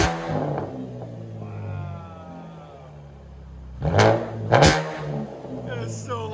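A Chevy Camaro 3.6L V6 with an MBRP cat-back exhaust revs as heard from inside the car: a low droning idle rises, then two quick, loud blips, with talk in between.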